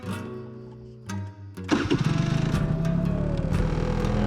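A small scooter engine cranks with a whirring starter, then sputters into a rough, uneven idle up close.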